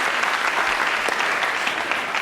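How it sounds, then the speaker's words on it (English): A studio audience on a television talk show claps in steady, dense applause that fills the whole moment at an even, loud level, with no voices on top. "Applaud."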